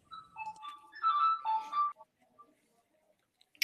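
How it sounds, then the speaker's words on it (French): A telephone rings with a short melodic ringtone phrase of rising and falling notes, fairly faint, then stops and leaves near silence. "Il y a un téléphone qui sonne."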